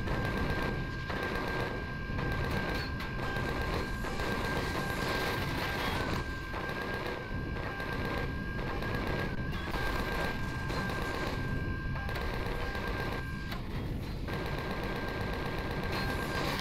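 Continuous rapid turret fire in the space survival game Empyrion Galactic Survival, a steady dense rattle of shots with brief dips, running throughout over a constant humming tone.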